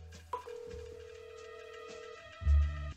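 A telephone rings in a hidden object puzzle game as a call is placed, giving a steady electronic tone that holds for about two seconds before a low thump near the end, with no voices.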